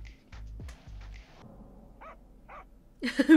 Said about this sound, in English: Someone's barking out at the front of the office.